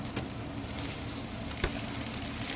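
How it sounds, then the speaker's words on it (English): A tortilla sizzles quietly in a hot pan, a soft steady crackle with a couple of brief louder pops. "you get a nice little sizzle going"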